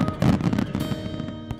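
Fireworks burst over Daisen in Akita, Japan, a town famous for the Omagari fireworks festival, with a rapid cluster of crackling, thumping explosions at moderate distance and no talk.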